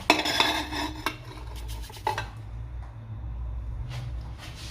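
Spooning marinade back over sea bream in a baking dish: a few light scrapes and clinks of a spoon against the dish, soft and close, with low background hum.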